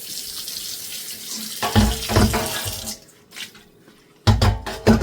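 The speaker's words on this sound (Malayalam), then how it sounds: "കഴുകി നോക്കട്ടെ അത്രയും എണ്ണമയം പോയോ എന്നാണ് നമുക്ക് അറിയേണ്ടത്" Tap water runs into a sink while a steel pot is rinsed and scrubbed clean of oil, splashing and gurgling in uneven close-up bursts, with quieter trickling in between.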